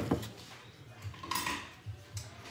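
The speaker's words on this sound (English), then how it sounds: "I have to get a spoon" A metal spoon pulled from a kitchen drawer, with a few light clinks and clatters of cutlery and dishes, close and fairly quiet.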